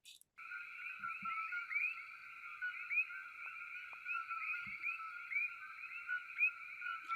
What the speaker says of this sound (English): Here we have some coqui frogs that have a similar frequency.